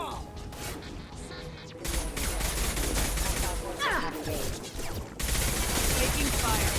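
Video game gunfire erupts in dense, rapid bursts and loud volleys that fill the whole stretch, with mechanical clatter and in-game voices shouting over the firefight.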